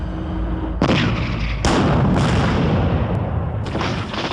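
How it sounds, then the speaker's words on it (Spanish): Gunfire in an ambush on a Soviet army convoy on a main road: loud, booming blasts with long rumbling tails, several bursts overlapping into a sustained roar, no voices. "Con gran precisión dispara y elimina a uno de los vehículos soviéticos"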